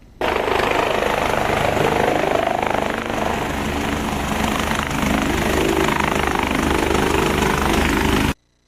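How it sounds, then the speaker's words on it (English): A Mercy medical helicopter sets down on an athletics field, its rotor and engine roaring loud and continuous at close range for about eight seconds before cutting off abruptly. "a Mercy helicopter meant to bring trauma victims to Olean General Hospital landed on Mara Athletics Field."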